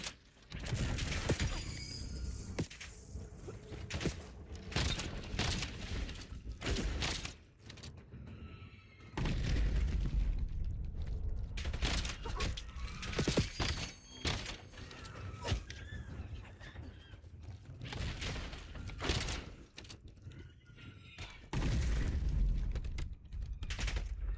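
Sustained gunfire in Black Ops 7, dense automatic bursts and single shots overlapping with mechanical clatter and thumps, loud and continuous throughout with brief lulls.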